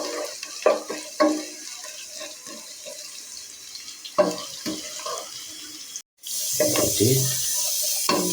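Onions frying in a pot with two cinnamon sticks and white cardamom, stirred with scraping and clattering strokes that give way to a steady louder sizzle near the end.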